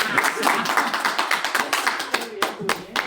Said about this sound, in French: Vous pouvez tous vous applaudir.